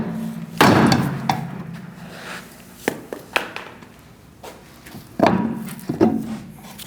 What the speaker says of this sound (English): If your wheel gets stuck, put a lug nut back on and just give it a tap with a rubber mallet.